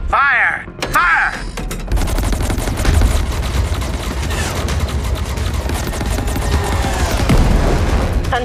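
Gunfire in the space combat game Chorus, dense rapid bursts and crackling shots over a rumbling engine drone, loud and close, with a voice briefly heard at the start.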